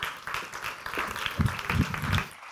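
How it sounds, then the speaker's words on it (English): Audience applause at a food tech startup pitch final, a broad wash of clapping for a presenter that swells in the middle and stops abruptly at the end, with no voices over it. "Big applause for Andrew."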